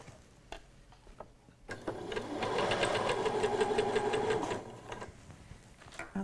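A domestic sewing machine stitches on the spot and then runs along an invisible zip seam in a steady, rapid whirring and ticking burst of about three seconds, close and clear, with light handling noises before and after.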